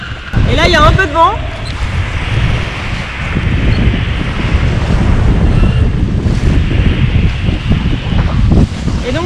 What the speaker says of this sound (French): Et là, il y a un peu de vent.